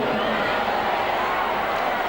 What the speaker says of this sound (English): Boy, the crowd here are loving this.